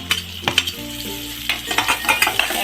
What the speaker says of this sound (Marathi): आता टॅमॅटो टाकू.